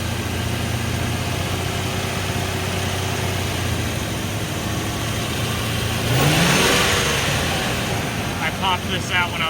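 A Land Rover Discovery 1 engine idles high with a steady drone under workshop noise, then revs up briefly and settles back with a few smaller blips, heard close.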